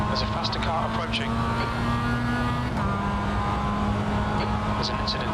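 A race car in the iRacing production car challenge, engine droning steadily and loud throughout with a slight pitch shift midway as a faster car closes in, with no voices over it.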